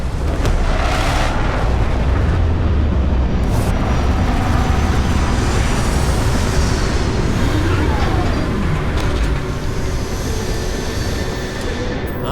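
A spaceship sets down on Mars in the video game Starfield, with a loud, steady roar of engine thrust and rumble that fills the whole stretch without letup, dropping off only slightly near the end.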